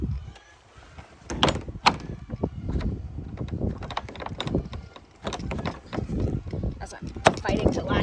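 Shed door being pushed shut and latched, with repeated wooden knocks, rattles and clunks of the latch under ongoing speech.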